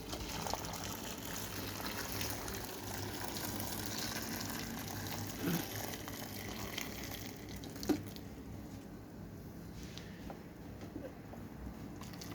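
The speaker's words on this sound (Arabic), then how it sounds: "هنضيف عليه ميه سخنه، ما ينفعش نضيف عليه ميه ساقعه" Hot water is poured over fava beans in a pot, a steady faint splashing trickle running for several seconds with a couple of small knocks partway through.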